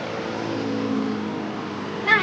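A blue angkot minibus rolls along a village road, its engine giving a steady, moderately loud hum that swells slightly as it goes by, with a brief louder burst right at the end.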